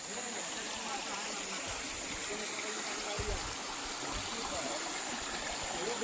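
Continuous rushing of river water flowing down, fairly steady and close, with faint low thumps underneath.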